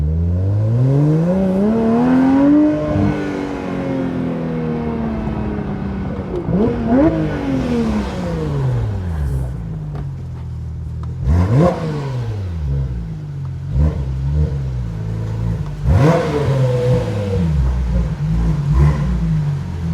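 A 992-generation Porsche GT3 Touring with a full titanium exhaust revs hard several times, pitch sweeping up and dropping back between bursts, loud and close over a steady idle rumble.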